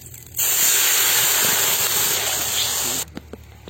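Water poured into a hot pan with ghee for Muslim wedding-style bread halwa, a sudden loud hissing burst of steam lasting about three seconds before dropping away to faint clinks.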